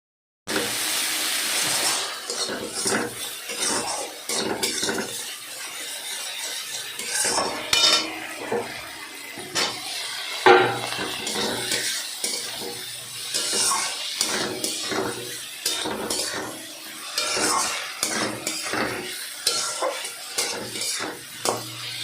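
Spices fried and stirred in a pan, with repeated scraping clinks of a utensil against the metal and a faint sizzle beneath, coming in irregular bursts.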